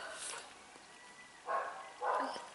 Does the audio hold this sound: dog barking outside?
yes